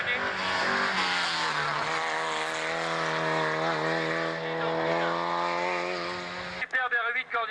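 A Renault R8 Gordini rally car, number 880, pulls away with a loud, sustained engine roar that holds its pitch through the gears before cutting off abruptly, followed by a few brief sounds that may be voices.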